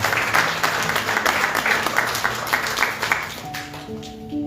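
A church congregation applauds during a service, a sustained wash of clapping with rhythmic surges that fades toward the end as a faint tonal sound enters.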